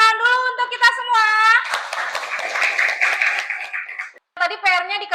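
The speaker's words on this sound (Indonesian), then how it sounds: "Tepuk tangan dulu untuk kita semua" A grade four class claps hands together in a rapid burst lasting a couple of seconds, bracketed by children's voices talking before and after.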